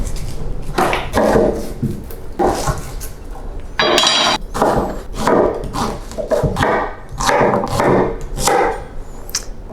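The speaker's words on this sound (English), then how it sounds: "chop the shallots" A knife chops peeled, quartered shallots on a cutting board, a run of sharp irregular knocks and taps close by, with no talking.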